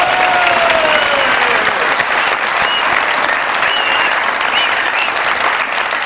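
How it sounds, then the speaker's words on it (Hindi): A studio audience greets the Punjab Assembly deputy speaker with loud, sustained applause, a dense wash of clapping that holds steady throughout. "बहुत सारी तालियों में वेलकम कीजिएगा"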